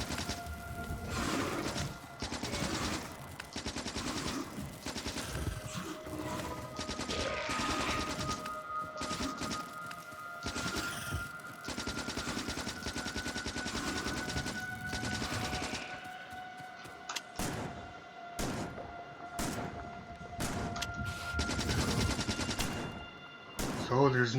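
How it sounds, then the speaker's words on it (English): Continuous shotgun blasts and rapid SMG fire from the game Factorio as bugs and spawners are attacked, dense and relentless over steady game tones, with occasional talk. "just shoot the spawners with a shotgun. Kill the rest of the bugs with your SMG."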